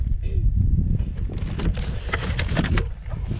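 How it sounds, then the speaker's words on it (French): Wind buffets the microphone outdoors in Morocco, a heavy low rumble gusting throughout with crackling bursts, while faint voices murmur beneath it. "Ah, il y a du vent."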